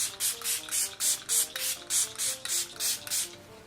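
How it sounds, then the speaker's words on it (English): Catrice Prime and Fine Dewy Glow Fixing setting spray misting in about ten quick, evenly spaced pumps, each a soft close hiss, with no talking. "for setting spray, I'm going to be using the Catrice Prime and Fine Dewy Glow Fixing"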